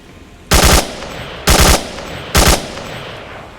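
Three short, loud bursts of automatic gunfire from the VR shooter game Onward, each a rapid rattle of a few rounds separated by about a second of quiet.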